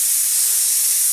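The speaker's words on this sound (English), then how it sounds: "I'm just gonna spray a bit through," An airbrush sprays thinned Mr. Colour H85 paint onto a 1/32 Wingnut Wings RE.8 model kit. It gives a close, steady airy hiss that runs unbroken through the whole short moment with no voices.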